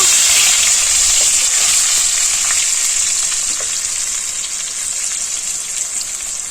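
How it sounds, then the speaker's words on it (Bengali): Potatoes sizzle loudly in a hot pan, a steady crackling hiss with occasional spatters, slowly easing slightly over time. "এবার একটু ভাজা ভাজা হোক আমার আলুগুলো ভাজা হয়ে গেছে"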